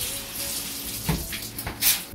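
Shower water running, a steady hiss of spray with a few louder splashes and bumps as the flow shifts, fairly close.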